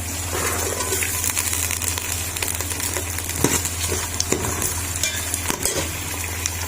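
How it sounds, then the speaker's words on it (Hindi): Peas tipped into a pan of onions browning in oil for Pakistani-style matar chawal, giving a steady close sizzle and crackle with a few sharp stirring clicks, no voices. "अब इसके अंदर हम डाल देंगे मटर।"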